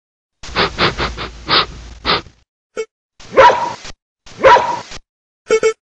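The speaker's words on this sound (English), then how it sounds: "dog," A dog barks in a quick run of sharp woofs, then two louder, separate barks, close and clear, with short clicks between and no one speaking.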